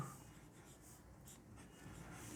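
Pen or marker writing out partial differentiation equations during a math lecture, a steady faint scratching and rubbing that runs continuously, close and quiet, with no talking.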